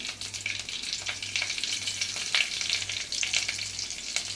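Peppercorns, dried red chillies and green chilli frying in hot oil for foxtail millet khichdi, a steady dense crackling sizzle with occasional sharper pops and stirring scrapes, close and continuous throughout.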